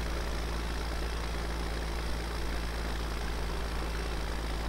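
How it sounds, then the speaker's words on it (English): Ford tractor engine in Farming Simulator 17 running at a steady low drone, a constant rumble with a faint hum, unchanging and alone with no talk. "I like the sound of this Ford tractor, but man, it is slow as molasses on a cold winter's day."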